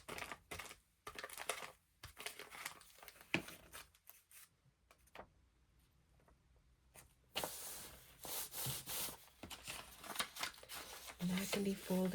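Newspaper scrap being folded and crumpled by hand for a journaling page, giving close, irregular papery crinkles and rustles that come in bursts with quieter stretches between them.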